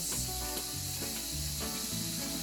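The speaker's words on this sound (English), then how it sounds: "you want to hear that nice sizzle" Red onions sizzle and fry in hot oil in a pot, a steady close crackling hiss with soft stirring scrapes and no talking.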